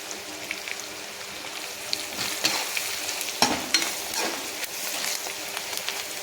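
Sambar tempering of coriander powder, turmeric, red chilli powder and sambar masala sizzling in hot oil, a steady close frying hiss with small pops and crackles, no talking.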